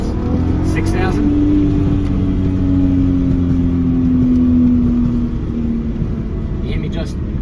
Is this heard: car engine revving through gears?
yes